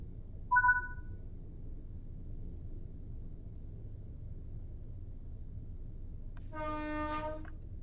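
A train in the Train Sim World 4 game slows toward a station under a steady low rumble, with a brief horn note early and a longer, louder horn blast near the end.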